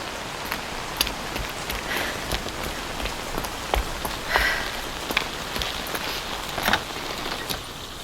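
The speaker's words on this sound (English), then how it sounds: "The rain's getting stronger." Video game rain falls steadily and loudly on surfaces, a dense hiss scattered with sharper drop and splash hits, building in intensity.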